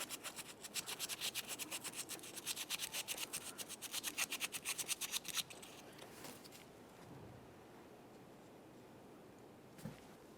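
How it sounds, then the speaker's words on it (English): Sandpaper rubs in quick rhythmic back-and-forth strokes over the coated terminal of a Nissan Titan battery, close and faint, then the scraping stops and a low hiss remains with one small knock near the end. "You need to sand them down with a little bit of sandpaper."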